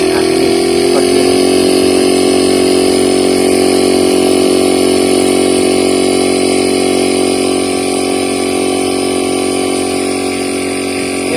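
An LG inverter refrigerator compressor runs under repair, giving a loud, steady mechanical hum with a constant buzzing drone that holds unchanged throughout.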